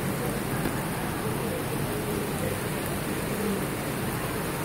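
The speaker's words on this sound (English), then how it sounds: "Can you see the rain?" Steady rain falling outdoors in Florida, a dense continuous wash of noise held at an even level throughout, with no distinct individual drops standing out.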